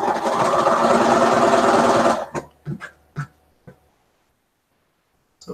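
A sewing machine stitching the windows of a modern house quilt, a fast steady whir for about two seconds that stops abruptly, followed by a few separate clicks and knocks, close and alone.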